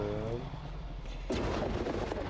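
A Warden weapon in Minecraft fires a single booming blast partway through, a sudden broad burst that cuts in over quieter game sounds and a faint tonal hum.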